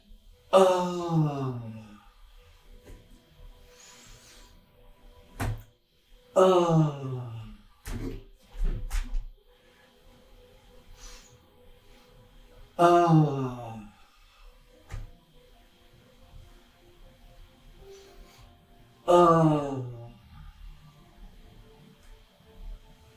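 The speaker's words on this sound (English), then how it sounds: "we're going to use the sound. So we're going to breathe in" During a tai chi exercise for circulation and balance, a person draws in several audible breaths and releases them with voiced sighing sounds, spaced at regular intervals and close to the mic in a quiet room.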